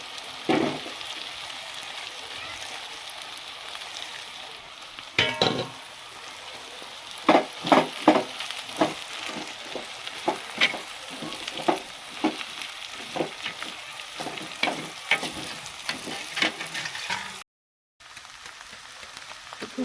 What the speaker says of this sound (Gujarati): હવે આમાં આપણે પૌવા નાખી દઈશું